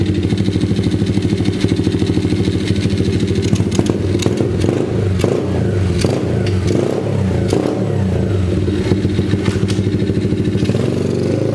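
A 2021 YCF Start F88S 88cc pit bike being ridden, its small engine buzzing loudly and continuously close by, with revs rising and falling and rattling clatter throughout.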